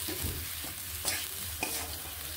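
Boiled lentils are sautéed with spices in a pan, with a close, steady sizzle and a few sharp scrapes of a spatula stirring; no talking.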